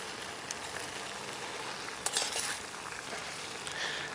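Corned beef and onion with added water cooking down in a pan outdoors in about 39 to 40 degree weather, a steady faint sizzle and bubbling with a few soft clinks.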